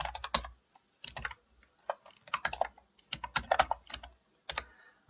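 Code is typed on a computer keyboard in quick clustered bursts of crisp, close key clicks separated by short pauses, with no talking.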